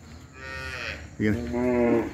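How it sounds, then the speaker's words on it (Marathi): A cow moos twice, a softer drawn-out low call followed by a louder, fuller moo, close by with no talking, near a small cowshed among coconut and areca palms. "कोकणात आल्यासारखं गाईचं अंबरणं"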